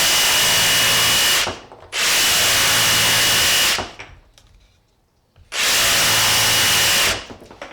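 A Ryobi 18-volt cordless brushless jig saw on straight cut with no orbital action, cutting 1-inch wood: three loud, steady buzzing cutting passes separated by short pauses, no talk.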